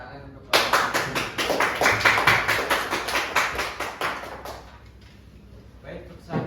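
Classroom group clapping in a brisk burst of sharp, closely spaced hand claps lasting several seconds, then tapering off to quiet room tone with a brief noise near the end.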